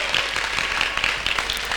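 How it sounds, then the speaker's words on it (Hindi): Loud, dense applause fills a healing conference hall as a crowd claps for Jesus, a continuous wash of many hands with no voices standing out. "जोरदार तालियां यीशु के लिए बजाएं"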